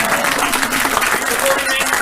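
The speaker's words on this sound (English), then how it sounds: "just a round of applause for all" Audience applause at a company update talk, a steady dense wash of clapping across the whole moment, with voices mixed in beneath it.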